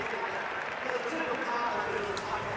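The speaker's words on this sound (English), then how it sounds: "a round of applause from Shanghai for what MongolZ have put on display" Crowd applause and cheering fill a Shanghai esports arena at the Perfect World Major, a steady, distant roar of many hands and voices under a commentator's speech.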